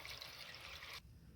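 Water pours into a pot of field beans for a bean stew, a steady splashing trickle for about a second that cuts off abruptly and leaves faint room noise behind.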